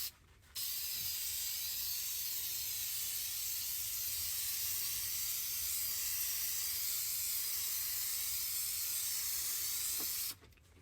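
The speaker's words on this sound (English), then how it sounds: "Now we spray with the activator." A spray can of hydrographics activator hisses in one long, steady burst lasting about ten seconds, close and loud, with brief quiet at either end.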